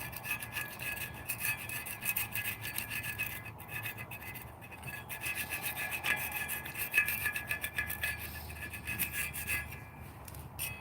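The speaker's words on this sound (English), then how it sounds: "Now we're gonna scrape this one off." Something being scraped off during a repair job, a continuous coarse rasping and rubbing that runs steadily for about eleven seconds at moderate loudness, close by and with no voices over it.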